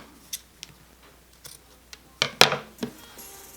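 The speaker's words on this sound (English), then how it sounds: "Pull it really tight, and then trim off the ends." Scissors trim the ends of T-shirt yarn after a square knot on a handmade bracelet: a few faint ticks, then two or three sharp, close snips in quick succession, with no talking.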